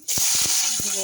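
Panch phoron spices crackling in hot oil in a wok for a Bengali fish-roe and bitter gourd curry, giving a steady bright hiss with a few soft low thumps running underneath.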